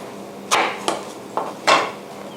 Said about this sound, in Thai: หั่นอีกครึ่งนึง